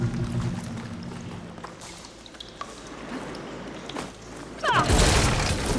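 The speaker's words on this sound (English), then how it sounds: "Sounds like the water's switched." Water surging through pipes after a valve switches in Horizon Forbidden West, with quiet drips and trickles at first, then a sudden loud rushing flow near the end.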